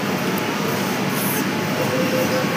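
A Kolkata underwater metro train rolls along, producing a constant rumbling and rushing rail noise with a faint high whine, steady and fairly loud, with no talking.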